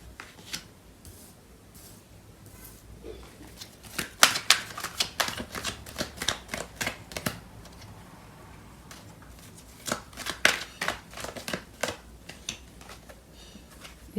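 Tarot cards being handled and drawn, crisp card snaps and slides in quick irregular bursts, sometimes rapid and clustered, with quieter gaps between, close and fairly soft, no talking.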